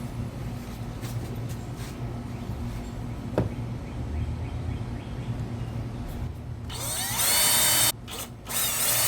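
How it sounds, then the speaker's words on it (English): A power drill pre-drills holes in a Bass Pro Shops Prowler 12-foot jon boat. Low motor whir runs throughout, then a sharper, louder bite into the material near the end, close up with no talk. "All right, just gonna pre-drill."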